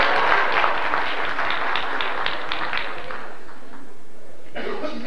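Audience applause at a cultural foundation talk in San Diego, dense clapping from a crowd that is loud at first and then thins out, followed by a brief voice.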